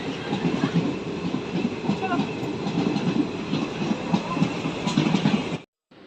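A passenger train rumbles and clatters steadily as it rolls out of Cossimbazar station at dawn, wheels clacking rhythmically, loud and close, before cutting off abruptly.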